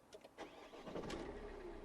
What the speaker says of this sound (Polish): Pozwolę sobie odpalić samochód.